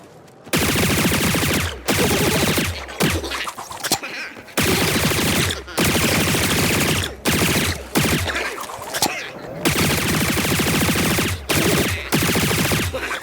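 Cartoony gunfire from the Imp character in the video game Plants vs. Zombies Garden Warfare 2 comes in loud, rapid bursts of repeated shots separated by short pauses, with no voices.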